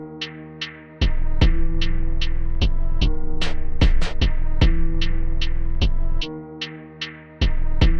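A beat slowed to half speed by a halftime effect in FL Studio's Gross Beat plugin, with deep booming kicks and sharp clicky transients in a slowed, dragging rhythm, dropping briefly to thinner gaps between sections.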